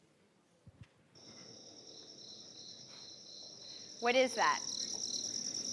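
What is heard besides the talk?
crickets chirping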